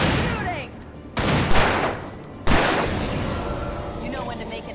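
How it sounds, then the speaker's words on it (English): Shots ring out in a dark thriller action game, with two sharp, loud blasts about a second apart followed by echoing tails and a low ambient bed, close and unvoiced. "See that? Shooting!"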